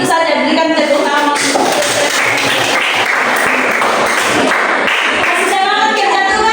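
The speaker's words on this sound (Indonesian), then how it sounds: "berikan tepuk tangan" A classroom of Indonesian students claps together in a sustained round of applause, steady and dense for several seconds, with a few voices mixed in.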